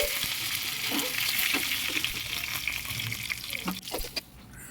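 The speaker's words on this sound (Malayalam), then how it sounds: "കടുകും കടിവേപ്പിലയാണ് അതിന് വേണ്ടിയിട്ട് വറുത്തിടാൻ വേണ്ടിയിട്ട്" Mustard seeds and curry leaves fry in a hot pan, a bright continuous sizzle dotted with small pops and crackles, close and fairly loud throughout.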